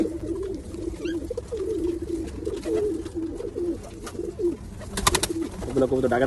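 Racing pigeons in a loft coo repeatedly in low, rolling phrases close to the microphone, with a brief sharp clatter near the end and light background activity.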